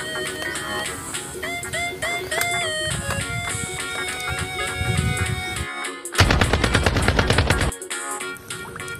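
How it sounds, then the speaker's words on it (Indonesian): Rapid toy AK-47 gunfire rattles over electronic tones and melodic beeps, with a louder burst of fast repeated shots near the end. "lihat teman-teman, ada senapan AK-47"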